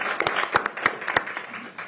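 Audience at a county council meeting applauding, a short burst of scattered, distinct hand claps from a modest crowd, fairly close and clear.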